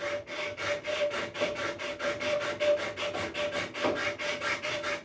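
A wooden rocking chair part is hand sanded with sandpaper in quick, even back-and-forth strokes, a dry rhythmic rubbing heard close and alone.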